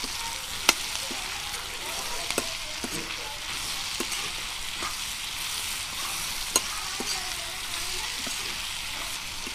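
Salt being stirred into kachri (pehta) curry frying in a pan, a steady sizzle under irregular scraping clicks of the spoon against the pan, close and moderately loud, with no talking.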